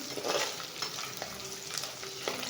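Garlic fries quietly in a pan with a soft, steady sizzle and a few light stirring scrapes, fairly faint and without speech.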